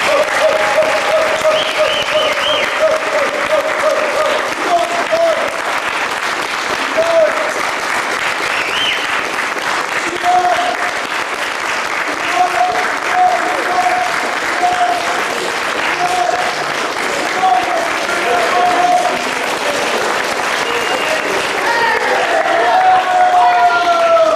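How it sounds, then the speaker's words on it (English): Sustained audience applause at a 2005 martial arts seminar, a dense, loud wash of clapping lasting over twenty seconds with crowd murmur and scattered voices mixed in. "I think we're going to have to give him a big round of applause."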